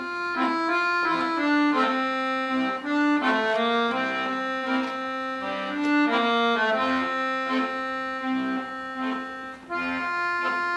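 The melody of a song played plainly from a lead sheet on a bright reedy instrument, a steady lyrical line of sustained notes, close and solo with no voices.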